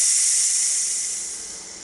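A pressure cooker releasing steam through its vent after cooking spaghetti and meatballs, a steady loud hiss with no other sounds that slowly fades over about two seconds.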